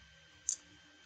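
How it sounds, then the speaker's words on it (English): A single short, quiet computer mouse click, crisp and isolated against a faint background hum. "Let's just click yes."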